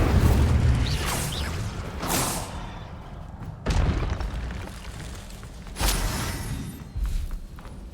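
Spell explosions in Hogwarts Legacy, a run of four or five booming bursts and thuds spaced a second or two apart over rumbling background noise, loud and close, with no talk.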